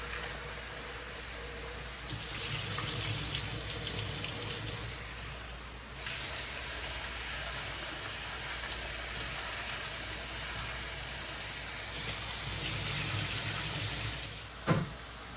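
Tap water runs steadily as yellow split peas are washed, a continuous hissing gush that shifts in tone as the flow changes, with a brief clatter near the end.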